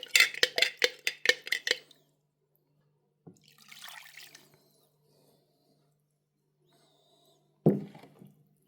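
Pieces of freshwater fish are stirred in a bowl of oil, spice and seasoning marinade: a quick run of close utensil clinks, then a soft wet sloshing shuffle, and a final louder knock.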